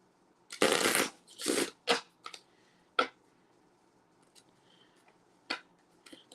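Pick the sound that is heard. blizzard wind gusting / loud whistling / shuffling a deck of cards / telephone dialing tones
shuffling a deck of cards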